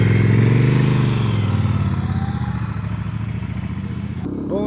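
Triumph Bonneville motorcycle engine running close by, a loud, steady, throbbing rumble with rapid pulsing beats, easing slightly before a brief clatter near the end.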